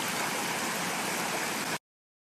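A waterfall rushes as a steady, dense hiss of falling water at moderate loudness, lasting under two seconds before cutting off abruptly into silence.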